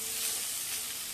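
Pork neck sizzles on a cast iron pan in a soft, steady hiss, faint and continuous for a brief moment with no talking.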